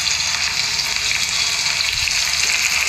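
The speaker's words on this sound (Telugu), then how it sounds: "కొద్దిగా ఉల్లిపాయ కలర్ చేంజ్ అయ్యే వరకు వేయించుకోవాలి." Chopped onion frying in a pan for a stuffed brinjal (eggplant) curry in a home kitchen, a steady, dense sizzle and crackle of oil that holds even and close throughout with no talking.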